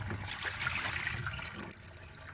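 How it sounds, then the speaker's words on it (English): Hot water tipped out of a container while making damson gin in a workshop: a steady, fairly quiet splashing pour lasting a couple of seconds before tapering off. "this has had hot water in, so let's tip that out"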